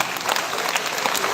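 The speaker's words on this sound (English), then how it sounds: "So you can clap for them." Applause from an audience of school students at a chess awareness event in Ooty, a dense, steady wash of many hands clapping at close range throughout.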